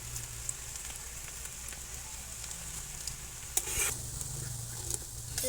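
Onion stalk pakoras deep frying in hot oil as they are turned, a soft continuous sizzle with a brief louder crackle of movement partway through, no voices.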